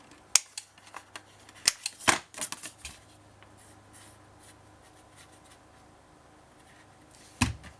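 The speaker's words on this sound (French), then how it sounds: "je vais arrondir mon coin ici" Paper for a mini scrapbook album gets its corner rounded: a quiet run of crisp snips and clicks in the first few seconds, a lull of faint handling, then one last sharp cut near the end.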